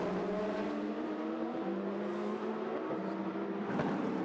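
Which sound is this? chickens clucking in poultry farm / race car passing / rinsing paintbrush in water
race car passing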